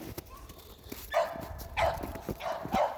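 A small puppy barks in three short bursts, fairly close and moderately loud, over a low background hum.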